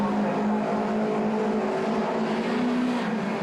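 Formula Renault 1.6 race cars drone past on the Zolder circuit during a junior championship race, a steady engine whine holding at moderate distance with no voices.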